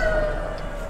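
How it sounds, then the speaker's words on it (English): Fire truck and ambulance sirens wailing during a hurricane, a steady tone heard at a distance beneath constant wind and rumble. "Fire truck, ambulance, another fire truck."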